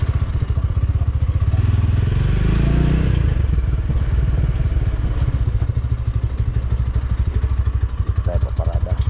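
A loud motorcycle engine chugs close by with a rapid, throbbing rhythm, revving briefly before settling back to a steady idle, with faint voices underneath.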